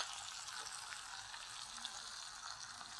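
Tomatoes sautéing in a pan for rasam give a soft, steady sizzle, faint and continuous with no talk.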